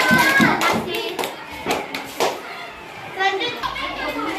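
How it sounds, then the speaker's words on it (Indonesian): A children's class claps for the second group, giving scattered, uneven applause mixed with lively children's voices and chatter nearby. "beri tepuk tangannya untuk kelompok kedua"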